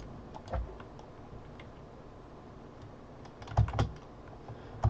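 Computer keyboard keys clicking during a session of Realm of the Mad God, with scattered quiet taps and a few louder clustered bursts of rapid presses, close and dry with no talking.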